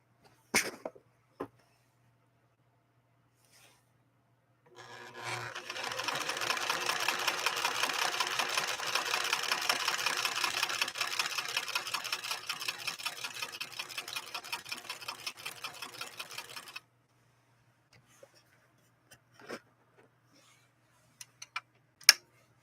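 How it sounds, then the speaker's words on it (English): A White Model 742 sewing machine, built by a Japanese domestic sewing machine company, stitches in a rapid, even ticking run lasting about twelve seconds, framed by a few brief clicks before and after. "let's do this final stitch that this machine is able to do minus the buttonhole"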